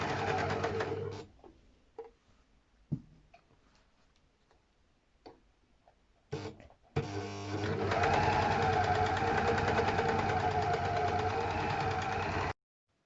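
Overlocker (serger) sewing machine stitching a fabric mask with ties caught in the seam, first a few faint ticks and clicks amid near silence, then a steady close buzzing run of rapid stitching for several seconds before stopping abruptly.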